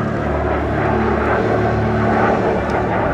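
Propeller airplanes of the Patrouille Groupe Trenchant fly in formation at the Air Legend Airshow 2024, a loud continuous droning engine roar that swells slightly as the aircraft pass.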